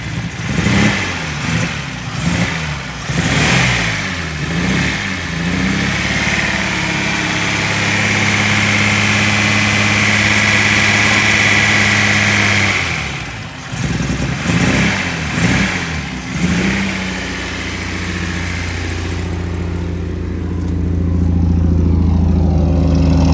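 The V8 engine of a 1972 Datsun Cedric idles with a steady rumble, broken by a few sharp throttle blips. It then settles into a longer held rev and drops back to idle, close and loud, with no talking.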